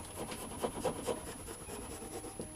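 A plain kitchen-type knife hacks through foam on a GSXR 1000 streetfighter motorcycle seat, producing quiet, rhythmic rasping strokes that crumble the foam, steady over a low background hiss.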